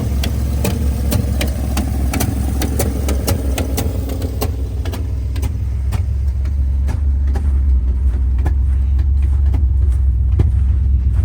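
Abandoned 1971 Ford F250 pickup, parked for 30 years, running its engine with a rough, steady low rumble and sharp irregular pops and misfires cracking through the exhaust, heard close up with no talking.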